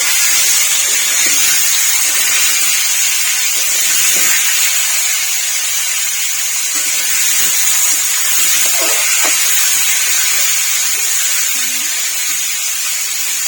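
Potato, carrot and papaya fry in a pan, giving a steady, close hiss of sizzling oil that runs unbroken throughout, with faint clinks and scrapes now and then.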